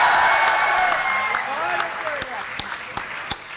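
A Hindi comedy poetry recital audience claps loudly at first, then the applause thins and fades as a voice begins speaking over the scattered last claps.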